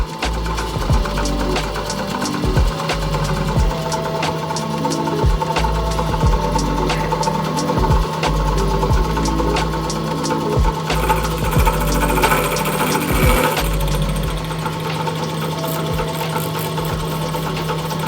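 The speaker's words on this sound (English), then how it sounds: "Probably have to turn up the speed because you got a smaller cutter." A milling machine runs a smaller cutter through bicycle frame tubing for seat stays and chain stay braces, a loud continuous mechanical whir with rapid rhythmic chattering that holds steady, with a brief shift in tone partway through.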